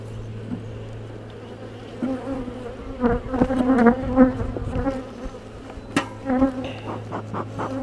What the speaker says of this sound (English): the worker bees will come in, clean up their cells pretty fast